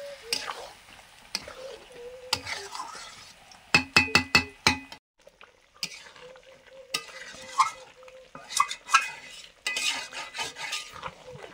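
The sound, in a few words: marinated chicken being sautéed and stirred in a pot for biryani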